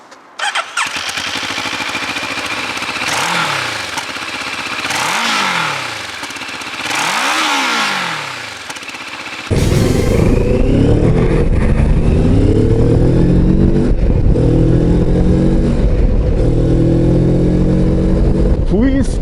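A Moto Morini X-Cape 650 middleweight adventure motorcycle: loud, close engine notes rise and fall in three rev sweeps, then the engine drones on hard at steady speed after a sudden jump in volume.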